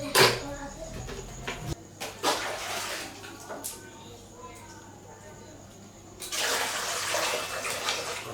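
Water splashes and pours over snails being rinsed in a basin, close sloshing and trickling with a pause in the middle before a louder gush returns, a voice speaking briefly over it.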